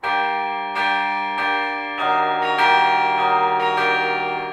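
Tuned bells ringing a minor scale, one clear resonant strike after another at a steady pace, each tone sustaining and overlapping the next, close and alone.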